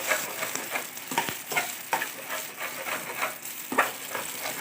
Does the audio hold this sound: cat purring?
no